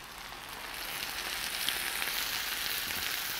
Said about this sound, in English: the next step would be to deglaze this with a little white wine